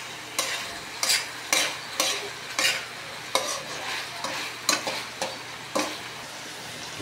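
Pork sizzles and fries in a pan for dinuguan while a utensil stirs it in regular scraping strokes about once a second, with a steady hiss of hot fat underneath.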